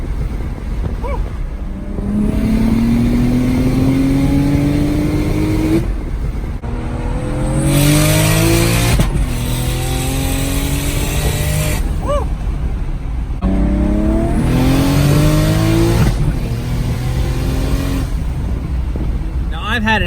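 Big single-turbo BMW 335i with an N54 engine running 18 PSI boost makes repeated loud full-throttle pulls, revs climbing through gears with short shift gaps, heard from inside the car alongside some talking.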